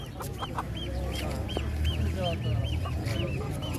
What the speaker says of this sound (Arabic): دجاجة هرتية. هذا هرتي.